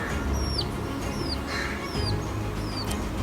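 Pet chickens, two hens, clucking and calling nearby in short rising chirps that repeat about every half second over a low background hum, with no one talking.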